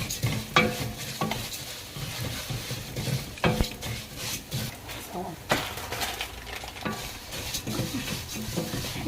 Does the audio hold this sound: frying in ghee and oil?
yes